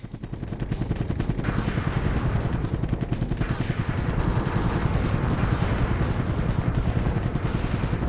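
A helicopter fires Hellfire missiles in the Soviet Strike video game, a dense, unbroken run of rapid blasts and explosions that stays loud and rumbling throughout.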